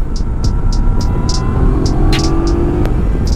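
A Yamaha Tracer 900 motorcycle rides along muddy back roads, its engine a steady, close, loud drone with small ticking sounds over it.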